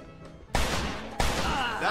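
Gunfire in Mafia 2, two sharp loud shots roughly half a second apart, each with a ringing decay, after a brief quieter stretch.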